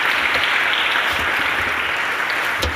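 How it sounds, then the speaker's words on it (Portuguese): A church congregation claps loudly and continuously, a dense, even wash of applause from many hands filling the whole stretch. "aplauda com toda a força"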